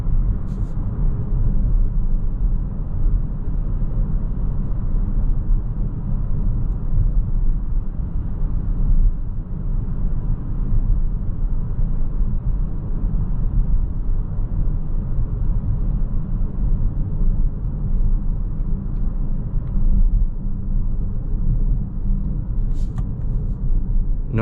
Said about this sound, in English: I just want to give you the opportunity to hear and see what it is to drive the Ioniq without me interfering all the time